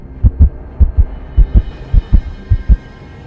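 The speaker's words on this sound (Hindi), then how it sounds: "रवि का दिल ज़ोर ज़ोर से धड़कने लगा।" Heartbeat sound effect in a Hindi ghost story, loud, deep paired thumps beating in a quick, steady lub-dub rhythm, about six beats alone with no voices.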